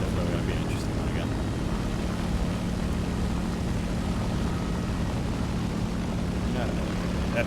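A WWII propeller fighter plane engine in the War Thunder video game drones steadily at an even pitch, a constant mid-level hum with no breaks.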